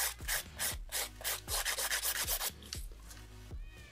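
A 180 grit nail file sands an acrylic nail in quick, rhythmic back-and-forth strokes, each a close, crisp rasp in a steady series with no talking.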